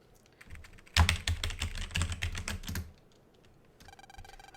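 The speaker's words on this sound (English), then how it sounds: "when we were doing that click-clack keyboard typing sound, I was also doing my keyboard to make it louder and more chaotic" Rapid click-clack keyboard typing from Mega Man Battle Network 2 bursts in loudly for about two seconds. A real keyboard is mashed along with it, and a faint electronic tone follows.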